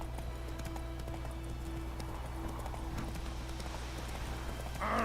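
The horse Roach trots in The Witcher 3, a steady clip-clop of hooves over a low ambient game soundscape with a sustained tonal drone, with no talking.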